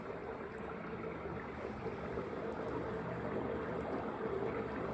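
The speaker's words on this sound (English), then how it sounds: "What a weird sound for just water going through a culvert." Water rushing through a culvert near Emerald Lake in bad weather, a steady low roaring churn that stays constant and fairly close throughout, with no voices.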